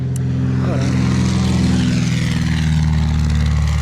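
A small propeller airplane practicing short field landings at Fallbrook Community Airpark drones loudly and steadily close by, its engine hum constant throughout with no talk.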